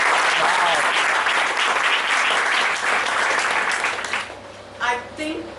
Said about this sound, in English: So give us round of applause.